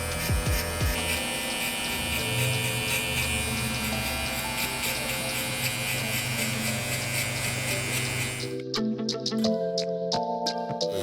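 A Gamma Cyborg electric hair clipper buzzing close and loud as a steady high whine for about eight seconds, then shifting to a rougher, broken hum as it works through hair. No voices.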